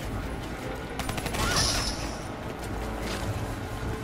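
Gunfire from a Call of Duty Black Ops III campaign battle, rapid bursts and shots blending into a dense rumbling din, with brief talk mixed in.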